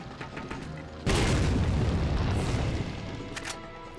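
A grenade blast in the Resident Evil 4 video game: one sudden, loud, broadband boom that rumbles and decays over a few seconds, with faint game ambience before and after.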